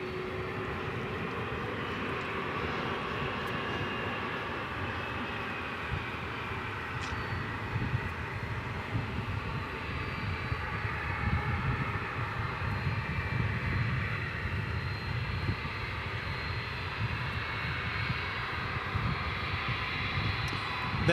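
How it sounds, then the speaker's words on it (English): A Delta Airbus A321 arriving at DFW Airport from Atlanta at night, a steady low engine roar that holds at a fairly even level, moderately distant, with no talk over it. "We've got a Delta flight coming in."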